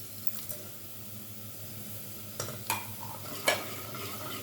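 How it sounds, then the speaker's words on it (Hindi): Whole garam masala spices go into hot oil in a frying pan for vegetable pulao, giving a soft steady sizzle. A few close stirring clinks and scrapes rise above it. "और अब इसमें ये साबित गरम मसाला डालूँगी"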